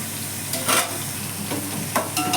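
Onions and green chilies frying in oil in a home kitchen, a low steady sizzle broken by several short bursts of stirring against the pan.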